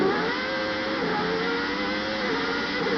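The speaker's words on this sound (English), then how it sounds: "The wheel spin there, you heard the engine scream" A Formula One race car engine from 1990 screams at high revs during wheel spin, a sustained loud whine that stays near and constant, with no voices over it.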